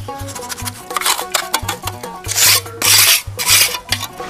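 Rasping, scraping strokes from plastering work on a house wall under construction, repeated in a steady rhythm of short and longer passes, loud and close with no talking.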